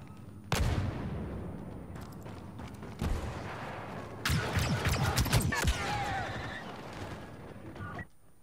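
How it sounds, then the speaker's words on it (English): Battlefront gunfire and a thrown grenade exploding, with sharp bursts and a heavier blast mid-clip amid scattered shots and clatter, fairly close, while a voice talks intermittently underneath. "I just threw a grenade over there."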